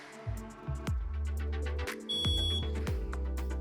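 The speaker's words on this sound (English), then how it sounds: "hopefully this alarm goes off" A BX403 portable gas detector sounds its alarm while being exposed to ozone from a bump tester, giving loud, repeated sharp beeps in a rapid pattern that continue throughout.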